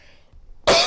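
A single sharp, loud cough bursts out near the end after a quiet pause, from a performer of traditional Banjar madihin poetry.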